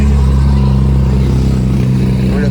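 Outlaw street cars at a Street Car Takeover meet in Bowling Green, 2020, rumble with loud, deep engine noise that holds steady and close throughout, with possible voices faintly underneath.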